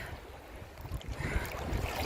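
Small sea waves wash steadily against a boat or shore in the Netherlands at sunset, with a low rumbling wash and light wind noise, continuous and fairly close, with no voices.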